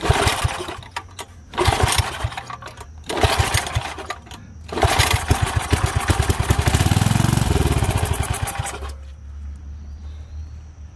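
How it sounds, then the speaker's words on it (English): A Tecumseh H60 small engine is pulled over in several short bursts of sputtering, then catches and runs loud and rough for a few seconds before cutting out, leaving a low hum. "There we go, junk runs."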